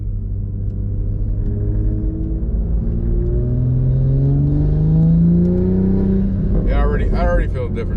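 Tuned 2020 Toyota GR Supra engine pulling hard under acceleration, a loud close rumble with rising tones that climb steadily through the gears, ending in a burst of crackling exhaust pops.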